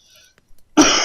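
A single sharp, close cough bursts out after near-silence and a couple of faint small noises.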